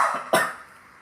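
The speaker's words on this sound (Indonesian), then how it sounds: "Maaf batuk." A single short cough, preceded by a faint breathy sound, then quiet.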